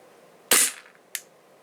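A Tokyo Marui M&P airsoft gas pistol with a steel slide, firing 0.2 gram BBs: one sharp, close snap with a short hiss of gas, then a faint second tick a moment later.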